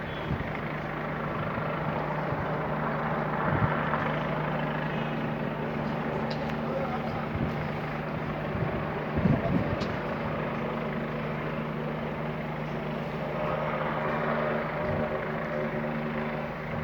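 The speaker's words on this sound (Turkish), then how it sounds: "Güzel bir helikopter." A helicopter drones steadily in the distance, its low engine hum continuous throughout, with occasional faint thumps and some background voices.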